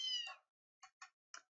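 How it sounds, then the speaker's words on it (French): In the video game Fantasy Life, a cat meows as a battle begins. One clear meow is followed by three short chirps, quiet and isolated against silence. "Chaque fois qu'on commence le combat, le chat miaule."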